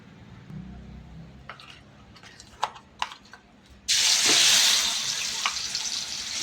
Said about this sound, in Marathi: त्याच कढईमध्ये तेल कमी केलं आणि आपण जे वाटण वाटून घेतलेलं आहे ते वाटण आपण आता ह्याच्यामध्ये टाकून घेऊ.